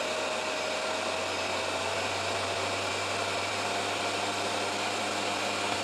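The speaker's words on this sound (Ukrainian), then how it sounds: "чутно, як вентилятор працює" Steady, loud whooshing hum of the cooling fan inside a Datouboss 2300W universal inverter running at high speed, a constant broadband airflow roar with a faint tonal whine and no pauses.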